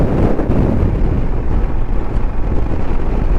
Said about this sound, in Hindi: काफ़ी तेज़ हवाएं शुरू हो गई है।